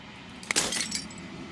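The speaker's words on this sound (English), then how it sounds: "As the final fragment of glass shatters, you see yourself with newfound clarity." Glass breaks in a video game: a single sharp crash followed by a bright scatter of tinkling fragments that fades within a second.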